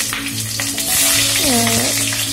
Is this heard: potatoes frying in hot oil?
yes